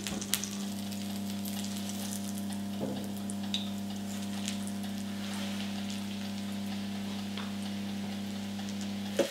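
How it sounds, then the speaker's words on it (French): Cordon bleu sears in a hot frying pan with a steady, close sizzle and faint crackles over a constant low hum, no talking. "Je saisis juste à la poêle mon cordon bleu"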